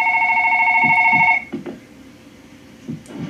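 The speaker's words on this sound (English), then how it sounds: "Somebody's phone is ringing." A phone rings inside the horror game One Late Night, a loud steady electronic trill that holds for over a second and then cuts off, leaving low muffled thumps and room noise.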